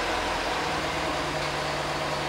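A V8 engine of a Jeep SRT8 running after a remote autostart, a steady low idle rumble throughout, close and alone without talk.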